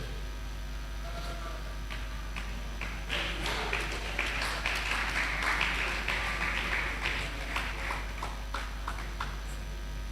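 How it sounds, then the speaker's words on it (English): A church congregation clapping during a sermon, many hands in a dense, fairly steady patter that swells in the middle and stays close and lively, over a constant low hum. "Why are you clapping?"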